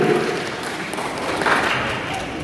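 An audience at an Indonesian student organisation gathering applauds. The dense, steady clapping fills the room, with a faint voice underneath.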